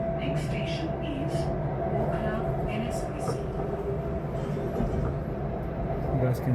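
A Delhi metro train runs with a steady, loud low rumble heard from inside the carriage, while voices murmur faintly over it.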